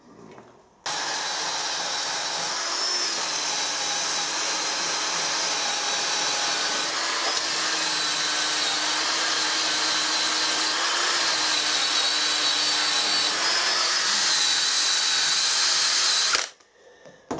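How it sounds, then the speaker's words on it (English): A drill fitted with a wire brush scrubs a burst boiler feed pump casting, running as one steady, loud, close whine with a gritty abrasive hiss for about fifteen seconds before stopping abruptly. "I'll get some wire brushes, get a drill, clean it up"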